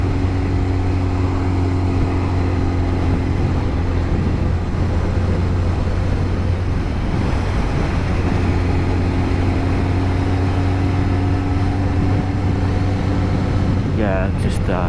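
A Honda CBR1100XX Blackbird motorcycle cruises a winding country road on the Porkkala cape, its engine a steady close drone under heavy wind rush, with a rider talking over it.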